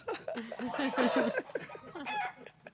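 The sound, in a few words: chicken clucking sound effect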